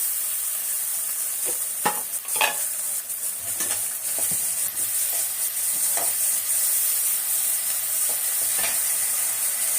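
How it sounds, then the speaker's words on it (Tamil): Ginger garlic paste sizzles steadily in a hot pan for rasam, with a bright continuous hiss broken by several distinct scraping stirs of a spoon, close and without speech. "இஞ்சி பூண்டு பேஸ்ட்டு போட்டுக்கலாம்."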